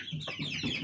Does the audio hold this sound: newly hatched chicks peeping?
yes